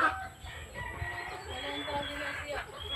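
A chicken clucks and crows close by on a rural property, heard in short repeated calls over soft outdoor background noise.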